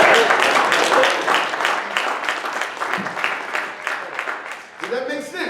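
A church audience claps during a sermon, a burst of scattered applause that thins out over several seconds, with a voice speaking near the end.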